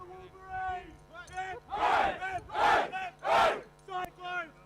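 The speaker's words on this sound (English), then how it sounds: "3 cheers for the Wolverines!" A crowd at a Reef Bowl VIII gridiron game between the Wolverines and Cyclones in Queensland gives three loud, rhythmic group cheers, each a broad roaring shout following a leader's call.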